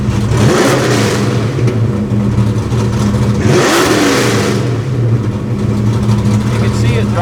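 Foxbody Mustang engine revving up twice with loud rising surges, then settling back to a steady rumbling idle, heard up close with a voice talking over it.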